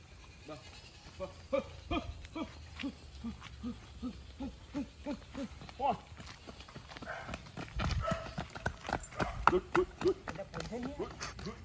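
Horse hooves clip-clop in a steady, even rhythm at close range, with voices speaking over the later part.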